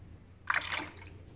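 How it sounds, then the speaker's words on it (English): Coolant glugs briefly into a Porsche cooling system expansion tank during bleeding, one short faint liquid splash and trickle against quiet background hum. "So we're gonna pour some more fluid in"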